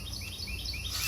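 A bird chirps outdoors in short, bright, repeated tweets over about a second, fairly clear against faint low background noise, with no talking.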